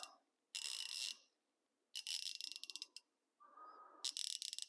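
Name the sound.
Gearwrench 90-tooth ratchet mechanism clicking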